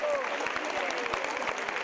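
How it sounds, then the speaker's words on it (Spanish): Audience applause at an equestrian horse show in Cadreita, a steady dense clapping from a crowd sustained throughout, moderately loud with a faint tonal voice or whistle at the start. "fuerte aplauso"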